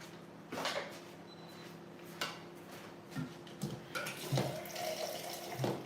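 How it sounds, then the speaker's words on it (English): Tap water running into a pot while hominy corn porridge cooks, a quiet splashing trickle in a kitchen broken by light clinks and clatter of dishes and utensils, with no talking. "Alright guys, so I just added a little bit of water."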